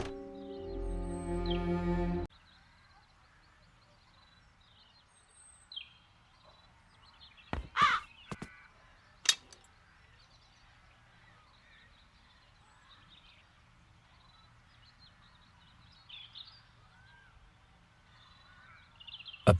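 Crows caw in The Dark Eye: Chains of Satinav, a few scattered calls over a quiet game soundscape, with louder sharp bursts near the start and middle.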